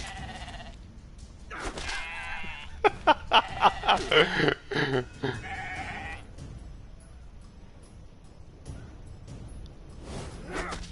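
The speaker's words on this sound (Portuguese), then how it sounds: "Eu tô lutando contra a ovelhinha, cara." A sheep enemy bleats in an RPG game battle, one clear bleat followed by a quick burst of rapid bleating calls, then quieter game sounds, with someone talking over parts.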